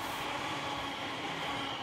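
A train passes on an elevated railway line near a residential area, a continuous broad wash of rail noise and rolling hiss heard at moderate distance, steady throughout with no voices.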